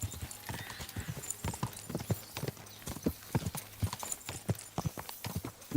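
Horse hooves clip-clop in the medieval video game Kingdom Come, set in Bohemia in 1403. The hoofbeats are steady and rhythmic at a walking pace, clear and fairly close, with a faint neigh.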